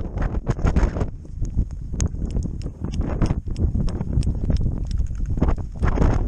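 Strong wind blows across the Tisvumchorr mountain pass in the Khibiny during a ski trek, loud buffeting gusts roaring over the microphone with irregular sharp thumps and crackles throughout.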